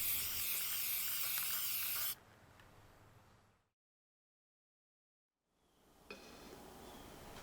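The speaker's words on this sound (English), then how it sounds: "A quick spray of lacquer to seal it up" A quick spray of lacquer sealing a painted wooden puzzle gives a loud, steady aerosol hiss for about two seconds. It trails off into silence, and a fainter second burst of spraying follows.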